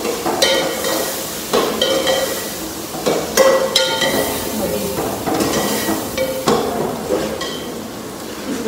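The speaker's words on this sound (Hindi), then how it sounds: "तड़का लग रहा है, अभी मैं डालती हूँ दाल।" Hot oil sizzles steadily as a tadka for dal tempers in a home kitchen, with a continuous frying hiss broken by frequent clinks and knocks of a utensil against the pot, loud and close.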